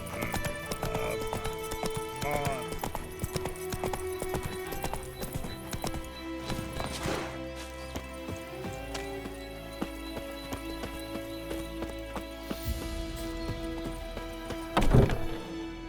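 Roach, the horse in The Witcher 3: Wild Hunt, gallops with steady clip-clop hoofbeats over a busy game soundscape of music and ambience, with a whinny and a thump near the end.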